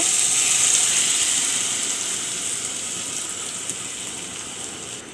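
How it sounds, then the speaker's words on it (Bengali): Water poured into a pan of chicken roast frying with spices, a loud, steady broadband hiss and gush that is strongest at first and eases slightly as it settles into a continuous sizzle, with no talking. "আমি এখন এখানে একটু পানি দিয়ে দিব"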